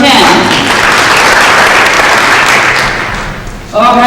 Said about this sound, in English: round of applause, principle number 10.